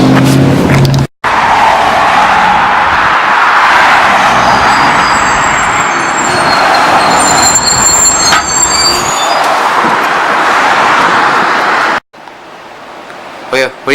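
A bus driving through traffic, heard as a loud, steady rumble of engine and road noise with faint high whining tones, cutting off abruptly near the end to a quieter interior.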